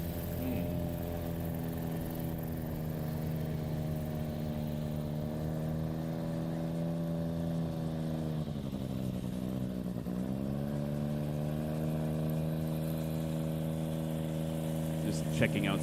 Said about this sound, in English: Bubbles weighing in on Mike Babcock's engine. Sounds a little lean